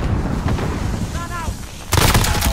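Gunfire in Call of Duty Modern Warfare team deathmatch on Shoot House, with an MP5 in play: a rumbling exchange under a brief voice, then a loud burst of close shots near the end.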